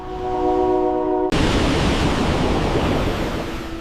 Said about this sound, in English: a roaring curtain of mountain water blasts straight across your path